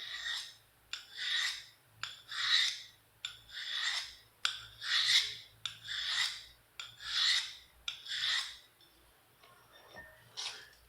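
Aluminum oxide and silicon carbide sandpaper rubbing against a blade edge in close, even back-and-forth strokes, about nine rasping passes at a steady rhythm before a brief pause and a final light stroke, with no talking.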